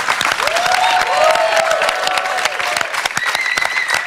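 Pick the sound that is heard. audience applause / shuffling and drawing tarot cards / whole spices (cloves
audience applause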